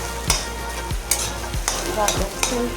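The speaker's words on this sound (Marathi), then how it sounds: "आता गरम कढई आहे ना, त्यात असंच ठेवलं आहे मी" Food crackles in a hot kadai while a utensil scrapes and stirs it in quick, repeated strokes. A close, continuous sizzle runs under the clicks, with no voices.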